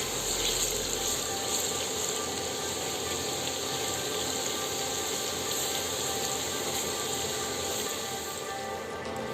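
Water poured into a pan of frying onions and spices for a fish and pui shak curry, a steady broadband rush and gush running continuously and fairly loud throughout, with no talk.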